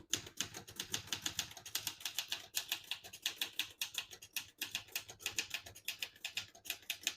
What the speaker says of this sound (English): I'll type a sentence in red on the next line and switch from black to red.